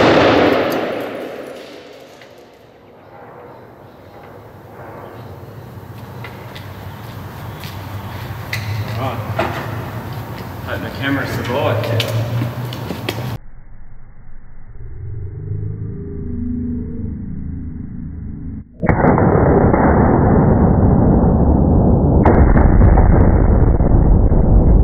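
Blasting inside a concrete truck drum with three holes of smokeless powder and three holes of 70 gram detonating cord: loud, close bursts and rumbling, with an abrupt drop followed by a sudden, sustained loud roar.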